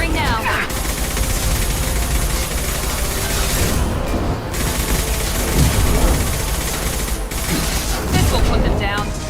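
Sustained, dense weapons fire from the Mass Effect game rattles on continuously and loudly, with a few sharper bursts cutting through the din.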